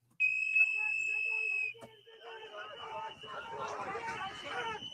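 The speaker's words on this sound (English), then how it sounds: "There's the whistle." A sharp, shrill whistle blast rings out for over a second during a police arrest, followed by a crowd of voices and commotion that rises underneath.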